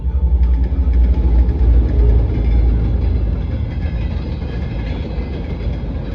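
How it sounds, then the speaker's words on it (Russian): A timber freight train rumbles past close by, a loud steady roar of rolling wagons with faint rhythmic clatter, gradually easing off. "А где у нас там поезд?"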